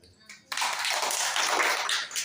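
People clapping hands in greeting at an elderly care home, a brief soft tap then a sudden burst of group clapping that holds steady and fairly faint to the end.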